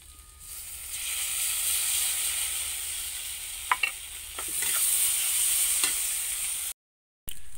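Ginger, garlic, coriander and cumin spice paste fries with onions for an egg and potato curry, a steady close hiss of sizzling oil broken by a few scraping stirs of the spoon, ending in a brief silence.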